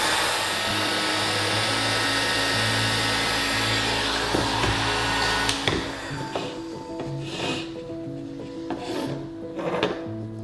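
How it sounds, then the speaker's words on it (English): Hot air gun or hairdryer blowing on carbon fiber wrap film inside a BMW F20 car interior: a steady, close whooshing blast for about five seconds, then it cuts off, leaving soft rubbing and handling noises. "if you don't have a hot air gun, then actually a hairdryer works really well"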